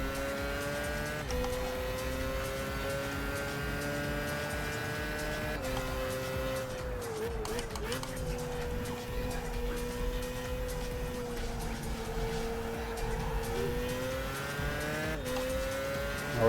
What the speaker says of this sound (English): I can't listen to my own engine revs if there's so many other engines around me being loud